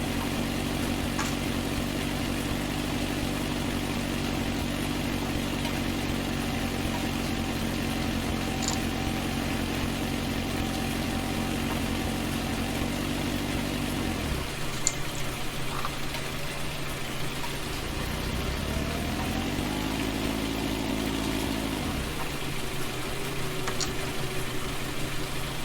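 A small tractor engine drones steadily while pulling a David Brown plough through grass, a low continuous rumble that drops off sharply midway, then swells and changes pitch as the load shifts again.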